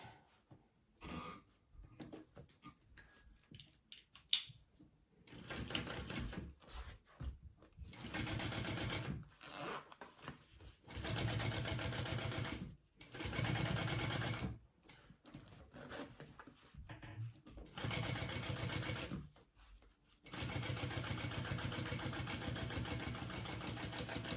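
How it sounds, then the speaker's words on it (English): A sewing machine top stitches through a bag seam in bursts, short runs at first and then longer steady stretches of close, rapid mechanical whirring separated by brief pauses. "we're going to top stitch through this top seam here"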